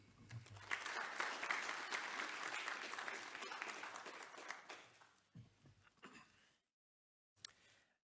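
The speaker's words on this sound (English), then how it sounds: "a big round of applause for Professor as he takes the stage." A lecture audience at a public talk on energy sovereignty breaks into sustained applause as a professor takes the stage, then the clapping thins out into a few scattered claps and brief silence.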